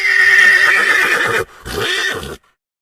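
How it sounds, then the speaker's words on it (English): A horse neighs loudly and close by, a shrill whinny in two bursts with a short break between them, ending abruptly in silence. "Horse."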